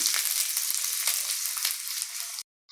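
Frying in coconut oil for a prawn and tapioca curry gives a steady, close, bright sizzle with no talk. It cuts off abruptly near the end.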